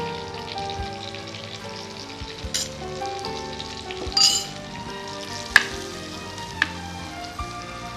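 Chili powder sizzles in hot oil with browned shallots for a Kerala pumpkin erissery, a steady close hiss over soft tonal music, with a few sharp clicks and a brief burst of stirring.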